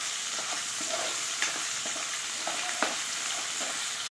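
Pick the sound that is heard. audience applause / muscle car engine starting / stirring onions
stirring onions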